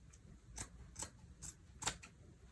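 Scissors snip through an oversized cotton T-shirt in four quick, crisp cuts spaced about half a second apart, close and fairly quiet with no talk.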